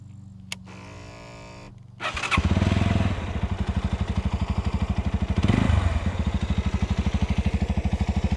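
A starter whirs briefly, then a Junak Racer 125 motorcycle engine catches and settles into a loud, steady, rapidly pulsing idle, close by.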